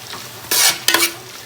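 Cumin and coriander fry in a pan, marked by two quick loud bursts of stirring and sizzling over a quiet hiss.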